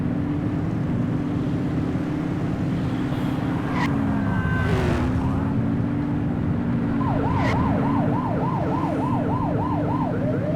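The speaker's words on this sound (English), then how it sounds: "You're only meant to use the siren in emergencies." A police car siren in the video game The Precinct, a rapid rising-and-falling wail that starts partway through over a steady engine drone, with no one talking.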